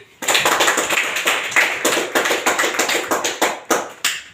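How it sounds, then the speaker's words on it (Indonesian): Students in an Islamic studies classroom clap hands together, a dense burst of sharp, close claps that stays loud and uneven, fading in pulses toward the end. "Beri tepuk tangan"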